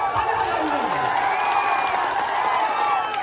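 A crowd at a wrestling match in Buxar, Bihar claps and cheers, a loud, continuous roar of hands and voices with a voice speaking over it.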